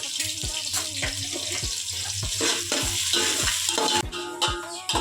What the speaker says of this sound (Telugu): కొంచెం ఆనియన్స్ సాల్ట్ వేస్తే కొంచెం తొందరగా ఫ్రై అవుతుంది